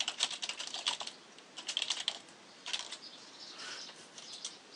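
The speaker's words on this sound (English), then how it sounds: "when you want to edit, you just click the pencil, and you start" Rapid keystrokes on a mobile keyboard while editing a Google Sites page, coming in quick bursts of light clicks that thin out toward the end, close and fairly soft with no talking.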